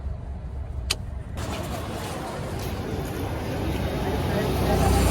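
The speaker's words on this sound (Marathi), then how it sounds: "पूर्ण ट्रॅफिक जाम झाली, अख्खी वाट लागली" Cars sit in a road traffic jam, giving a dense, steady rumble of engines and road noise that grows gradually louder, with a sharp click near the start.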